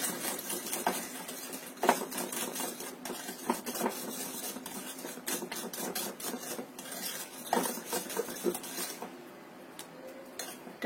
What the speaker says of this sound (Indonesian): kita aduk lagi sampai tercampur rata ke adonan